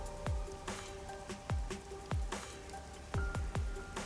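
Rain falling in a neon-lit city district in the video game Master Detective Archives: Rain Code, a steady soft patter with scattered heavier drips landing at irregular intervals, fairly quiet and without voices.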